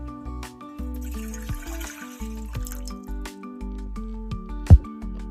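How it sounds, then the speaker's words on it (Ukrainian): Water is poured into a saucepan for dissolving copper sulfate crystals, a close trickling and dribbling stream with a brief louder splash near the end, heard alone in a quiet kitchen. "Набираємо водичку. Так, виливаємо в кастрюльку."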